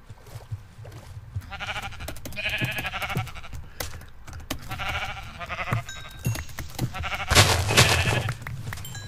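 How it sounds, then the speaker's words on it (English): Minecraft sheep bleat in short wavering calls amid game sounds and keyboard tapping, with a louder burst of noise near the end. "But there's sheep over there."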